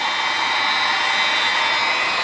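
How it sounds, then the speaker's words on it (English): A heat gun blows hot air during a homemade vent install on a Ski-Doo Rev 800 snowmobile. It makes a loud, steady, breathy whoosh with an even hiss that holds throughout, close by and alone. "heat gun's a lot quicker than air dryer"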